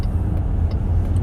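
A 2020 Chrysler Pacifica Touring L van drives on a fairly clear road, heard from inside as a steady low rumble of engine and road noise with no talking.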